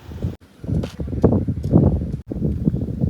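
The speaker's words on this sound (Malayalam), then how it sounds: "ഈ സൈഡിലേക്ക് വന്നപ്പോൾ കുറച്ചുകൂടെ കാറ്റുണ്ട് ഇവിടെ" Wind gusts buffet a hilltop at Ramakkalmedu near wind turbines, a rough, rumbling roar that swells and drops with two brief lulls, loud and close against the microphone.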